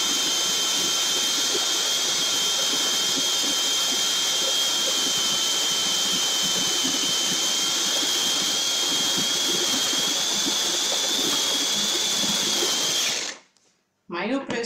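A food processor grinds peanuts into peanut butter, a loud steady high-pitched motor whine with a coarse churning roar beneath, running continuously before cutting off abruptly near the end.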